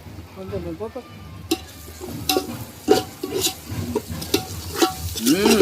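Pure ghee goes into a large pot of village-style chicken biryani, setting off loud, close sizzling and frying with stirring scrapes, as people talk over the cooking.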